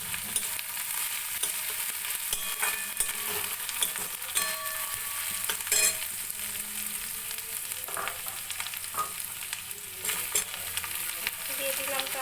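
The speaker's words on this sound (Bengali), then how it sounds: "একটু ভাজা ভাজা হয়ে যাক" Chopped tomatoes sizzle in hot oil for an egg curry while a spoon stirs and scrapes the pan, giving a continuous crackling fry with intermittent knocks and scrapes.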